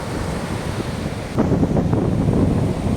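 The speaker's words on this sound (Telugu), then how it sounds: "అలలు ఎగసి ఎగసి పడుతున్నాయి." Ocean surf rushing and breaking close by on a beach, with a louder wave surge halfway through and wind buffeting the microphone.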